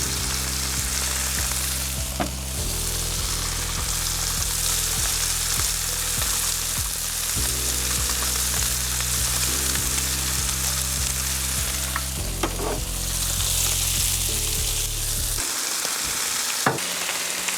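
Steak and vegetables sizzle steadily on a Blackstone griddle, a loud continuous frying hiss with occasional scrapes and clicks from stirring, and no voices.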